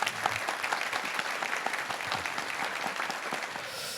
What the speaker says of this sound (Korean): 김명환 회장님도 박수 한번 다시 한번 부탁드리겠습니다